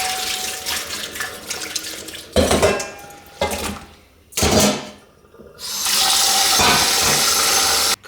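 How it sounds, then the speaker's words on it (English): Running tap water rinses baking soda off pork spare ribs in a kitchen sink, with splashing and clattering against the basin in bursts that end in a steady loud flow. "Just going to be rinsing the baking soda off of these ribs over here"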